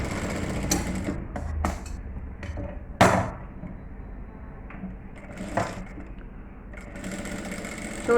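A sewing machine stitches a petticoat in short runs of rapid whirring, stopping and restarting several times with clicks and thumps between runs and no talking.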